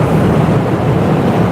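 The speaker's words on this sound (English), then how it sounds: "extremely windy up here" Strong wind buffets a microphone high up on a trucking route, a loud, continuous roaring rush dominated by low rumble with no breaks and no voices.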